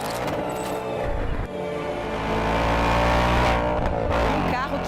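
A Ford Mustang GT Performance engine revs loud and close, its deep roar holding steady and swelling as the throttle rises, with no break in the sound.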